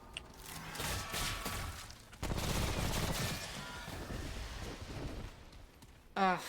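SMG gunfire in the video game Remnant: From the Ashes, sustained rapid automatic fire with dense crackling bursts across several seconds, loud and continuous, ending with a brief sharp sound.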